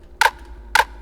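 Two crisp, bright snare hits spaced apart, each short and punchy with a brief reverb tail, played alone without any voices.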